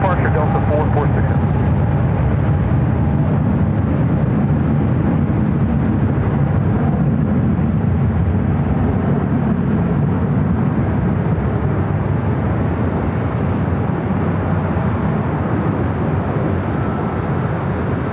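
Delta flight 446 departing from Los Angeles airport, a loud sustained engine roar that stays heavy and constant throughout, with speech over it.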